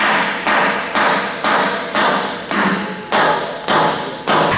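Hammer blows during installation of a two-post vehicle lift, eight loud, evenly spaced metallic strikes landing roughly every half second, close and alone with no talk.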